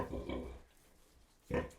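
A sow that has just farrowed, settling down beside her newborn piglets, grunts in two short bursts, a longer one and then a brief one after a pause; the grunts are close and moderately loud.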